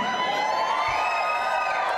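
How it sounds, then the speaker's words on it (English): Women in a crowd at an anniversary gala cheer and whoop, a sustained high-pitched chorus of voices holding steady throughout. "Let me hear the strong women in this crowd right now"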